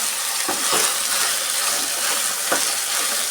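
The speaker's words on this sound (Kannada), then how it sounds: "ಈಗ ನೋಡಿ, ಈ ಥರ ಫ್ರೈ ಮಾಡ್ಕೊಬೇಕು" Onions sizzle and fry steadily in a hot pan for onion thokku, a continuous close hiss with a few brief scraping stirs.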